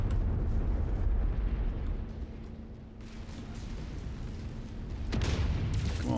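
A target blows up in the MechWarrior 5 video game: a loud, sustained low rumbling blast runs through the whole stretch and swells again near the end, over steady game background noise.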